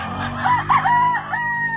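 A Roundhead rooster crows loudly and close by, a long drawn-out call with clucking hens mixed in around it.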